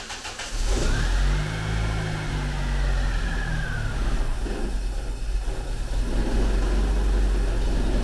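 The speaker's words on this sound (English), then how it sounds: "I'm going to start it up and see how she runs" A Land Rover Ninety engine, running again after an engine change, cranks with a whirring starter and then catches. It settles into a loud, close, rumbling idle with slight revs that keeps going steadily to the end.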